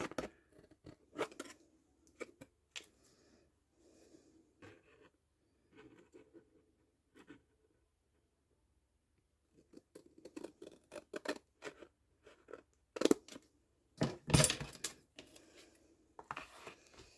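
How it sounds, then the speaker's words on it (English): Scissors snipping the corners off paper for a journal cover, sparse crisp cuts at first, a pause, then a denser run of snips and rustling paper nearby, with no voices. "And then you're going to cut those corners off."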